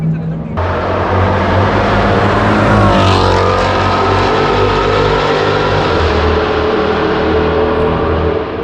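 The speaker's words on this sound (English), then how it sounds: "it's Mustang GT again, along with the M8 competition" A Ford Mustang GT and a BMW M8 Competition pass on India's only Formula One circuit, their engines roaring loud and close, with a sweeping rise in pitch midway as they go by, sustained to the end.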